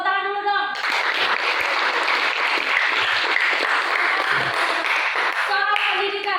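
Audience applause rings out after a group finishes its presentation on education at a community event, dense sustained clapping filling the room for several seconds, with a speaking voice before and after it.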